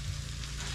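Pieces of banana trunk fry in hot oil, giving a steady, close, even sizzle with no pauses and no voices.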